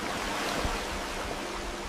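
Open sea surges and washes continuously around a Viking ship under sail, a dense, steady rush of water and wind with no voices.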